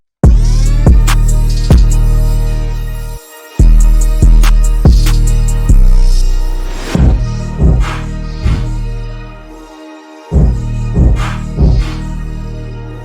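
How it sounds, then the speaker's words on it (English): A loud chopped drum beat made in FL Studio stutters along with punchy kicks and snare hits, cut into uneven fragments with a couple of abrupt gaps. "I chopped the drum so it sounds like this"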